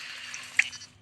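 Water drips from a broken pipe in the video game Poppy Playtime Chapter 2, a single soft close drip over a faint watery hiss.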